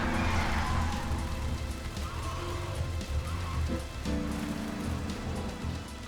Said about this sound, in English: Even the raindrops look different.